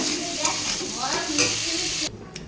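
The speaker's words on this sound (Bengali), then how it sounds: "চিংড়ি মাছ ভাজা বসিয়ে দিয়েছি" Prawns fry in hot oil in a pan, giving off a close, continuous sizzle with scattered spits and pops. The sizzling cuts down sharply near the end, leaving a faint hiss and a small clatter.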